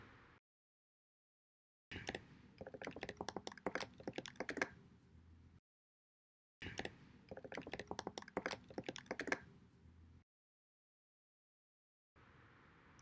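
Typing a caption on a computer keyboard: two bursts of rapid, close key clacks, each a few seconds long, separated by silence, quiet overall and with no voices.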